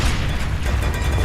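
Torque bow explosion in Gears of War: a dense, loud, continuous rumbling roar of blasts and noise filling the whole moment, with no clear pause or voice.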